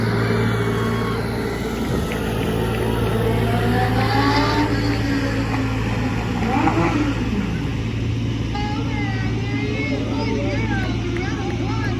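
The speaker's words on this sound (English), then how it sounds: "tried to pop the toe out on Jerry's car, and they're going to put him out" Race car engines at a dirt-oval speedway event, a steady loud motor drone with a rising rev sweep in the middle, under a continuous background of talk and crowd noise.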